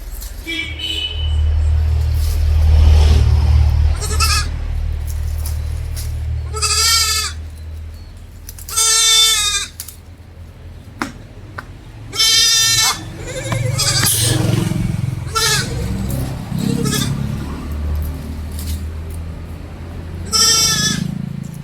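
Dairy goats for sale bleat loudly several times in separate drawn-out calls, close by, over a steady low rumble of engine noise.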